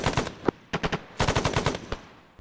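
Machine gun fire in the ArmA 3 military game, in quick rattling bursts of several rounds each, with short pauses between bursts and a sharp single report mixed in.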